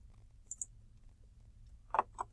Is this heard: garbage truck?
no